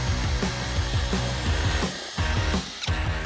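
A power drill whirs steadily with a rhythmic churning as it stirs thick paint, briefly easing off twice before spinning back up.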